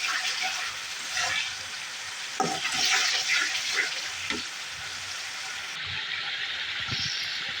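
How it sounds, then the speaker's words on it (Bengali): Meat is sautéed with spices such as turmeric, coriander powder, salt and garlic in a pan, giving a steady frying hiss with spoon scrapes and clatter that bunch up midway, near and moderate. "আর এদিকে মাংস মশলা কষাচ্ছি।"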